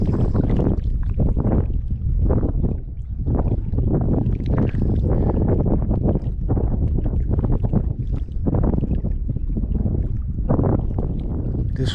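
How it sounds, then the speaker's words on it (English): Strong outdoor wind gusts buffet the microphone on open water where boats are about, a loud, steady roar with rising and falling surges throughout. "This wind that has picked up a bit, I believe, is also making a very huge difference."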